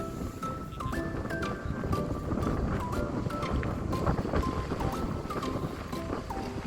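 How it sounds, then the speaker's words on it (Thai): Strong wind buffeting the microphone on Kirara Beach in Japan, a constant loud rushing roar throughout with faint tonal sounds drifting above it. "จะสังเกตว่ามีเสียงลมแรงมาก"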